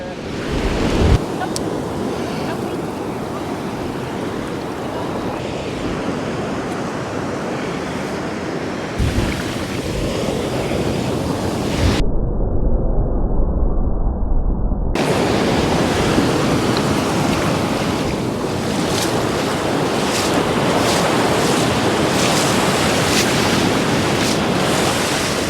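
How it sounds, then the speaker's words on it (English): Sea waves surge onto the shore at St Combs in Aberdeenshire during a fishing session, a loud, continuous roar of surf and wind buffeting the microphone, with one brief quieter gap partway through. "There's big surges coming in now and again"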